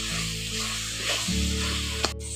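Coconut filling with cardamom and milk powder being stirred in a pan for puli pitha, a steady close sizzle with a soft scrape and one sharp tap near the end.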